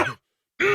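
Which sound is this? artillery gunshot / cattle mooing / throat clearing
throat clearing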